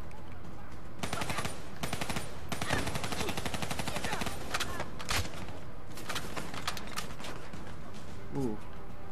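Rapid machine-gun fire and bursts of gunshots in the first mission of Black Ops 3, sustained rattling volleys with short pauses, fairly close, with a voice briefly heard.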